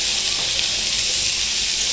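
Steady sizzling hiss of vegetables frying in a pan for small-fish shukto, with pieces of carrot joining diced papaya already cooking, a continuous close, even crackle without any voice.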